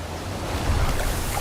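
Turbulent river rapids in wild, untouched nature, heard as a steady broadband rush of churning water with a low rumble, continuous and fairly close with no voices.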